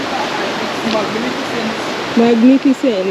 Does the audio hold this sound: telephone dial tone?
no